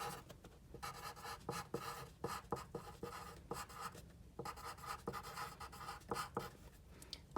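A pen scratches across journal paper in close, quiet strokes with an irregular rhythm of short scribbles and brief pauses, with no voices.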